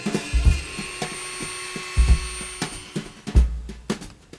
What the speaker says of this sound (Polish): Nawiercamy w kształtkach otwory, które okryją końcówki drucika lub wstążki oraz posłużą jako otwór na zawieszkę.